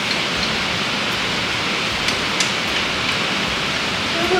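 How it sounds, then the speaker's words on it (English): Steady rain falling outdoors after an all-day downpour, a dense even hiss with a few faint clicks and drips, moderately loud and unbroken. "it's been raining all day long"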